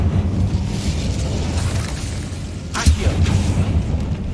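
Incendio fire spell in Hogwarts Legacy, a sudden whooshing burst about halfway through, rising over a dense rumbling game soundscape.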